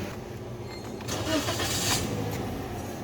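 A Toyota Vios with an ABS fault warning on its dashboard starts up, a short cranking surge followed by a steady engine running close by, with no talking.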